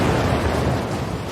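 An asteroid impact explosion rendered as a loud, continuous low rumbling roar that fills the whole brief moment with dense booming energy and no voices.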